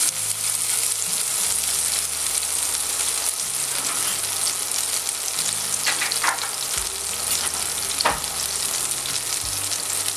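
Butter sizzles loudly and continuously in a hot frying pan, browning before potatoes go in for a potato and bacon omelette; the frying hiss is close and even, with a few faint clinks and no talk.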